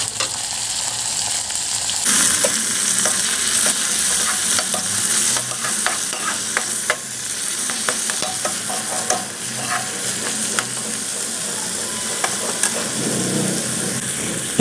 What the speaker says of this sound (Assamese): এতিয়া মই কাটি লৈছিলোঁ যে বিলাহীটো মই তাতে দি দিম আৰু ভালদৰে লৰাই দিম